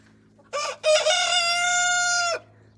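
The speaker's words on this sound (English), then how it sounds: "I feel like these really big ones are roosters." A Delaware rooster in a backyard run gives one clear, loud crow close by, a short rising start followed by a long sustained call that cuts off sharply.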